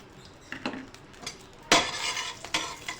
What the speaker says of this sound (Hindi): इसको हम फ्राई कर लेंगे।